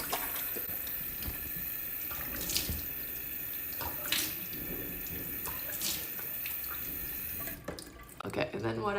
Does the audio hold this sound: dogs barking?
no